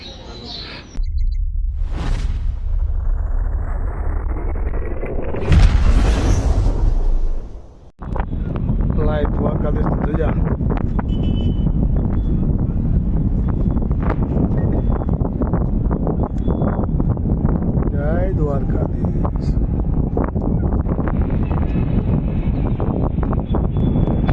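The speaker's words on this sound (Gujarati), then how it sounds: "પવન જોરદાર છે" Strong wind outdoors near a river roars and buffets the microphone almost continuously, a loud, rough rumble with a brief dip partway through.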